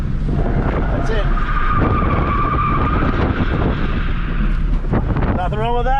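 A car drifting at night on Queensland Raceway, tyres skidding with a sustained squealing screech over a roaring engine and wind buffeting; voices call out near the end.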